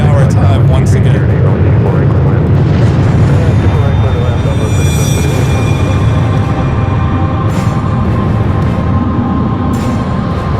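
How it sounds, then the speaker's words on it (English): A Turkish Airlines jet taking off from the north side at LAX, Los Angeles, in the evening: a loud, steady, broadband engine roar that fills the whole stretch without letting up. "Looks like a Turkish heading up for a north side takeoff."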